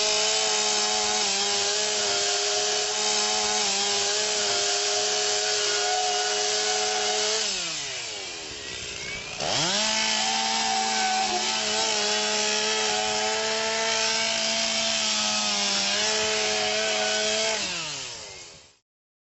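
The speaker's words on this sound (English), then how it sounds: "The lead hook directs the saw operator to cut a heat hole using the 5-cut center rafter louver method." A chainsaw cuts a heat hole through a house roof during vertical ventilation, its loud, steady engine whine dipping briefly mid-cut before picking back up and cutting off at the end.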